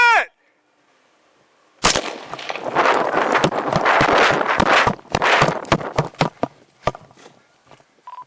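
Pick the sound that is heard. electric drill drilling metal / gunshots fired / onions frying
gunshots fired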